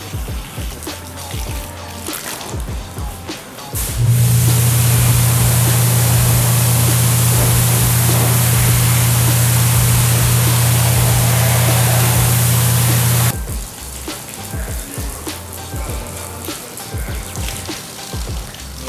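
Water sprays onto a car in a loud, steady hiss lasting about nine seconds, starting and stopping abruptly, close up.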